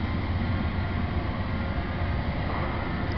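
A train passes at a steady distance, its broad low rumble and rolling rail noise holding evenly throughout with no voices.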